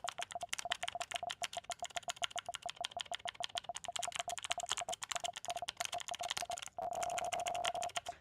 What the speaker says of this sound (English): So that's the clicky switches.